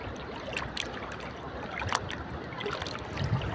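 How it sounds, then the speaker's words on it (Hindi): Dangerous floodwater after a storm rushes past a village, a steady loud roar of turbulent flowing water with no voices. "देख रहे हो सामने खतरनाक सैलाब आ चुका है"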